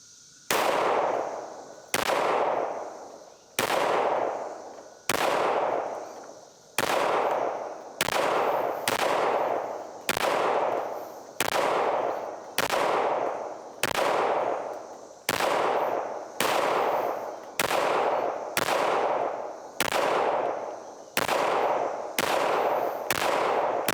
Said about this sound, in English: So I'm just going to dump a magazine into that real quick.